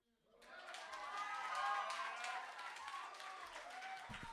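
A poetry slam audience applauds and cheers, a swelling wash of clapping that builds after a quiet start and holds steady, with crowd murmur underneath.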